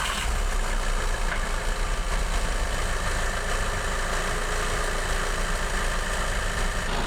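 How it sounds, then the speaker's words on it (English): A campervan engine idles close by, a steady low mechanical rumble with a constant drone holding at an even level throughout, no voices over it. "sorry, the engine's running, that's why it's a bit noisy"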